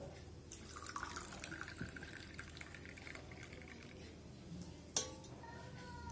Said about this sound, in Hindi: चाय छान लेंगे।